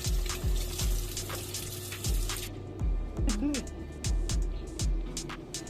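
Kitchen tap water runs steadily into a sink while tilapia is washed, a continuous splashing stream with irregular knocks and clatters of handling, close by, with a faint voice briefly underneath.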